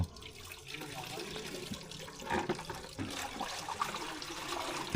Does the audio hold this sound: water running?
yes